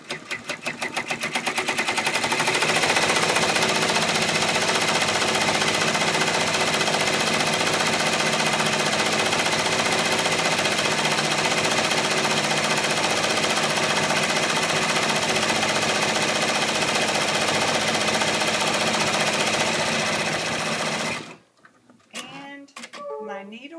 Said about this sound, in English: now it's going to stitch the marking stitch for the moose